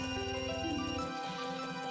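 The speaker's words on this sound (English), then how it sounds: "that is the sound of an item, of collecting an item" Item collection jingle from Zelda Majora's Mask randomizer, a bright tonal melody of rising notes heard alone over steady game music, fairly loud and brief.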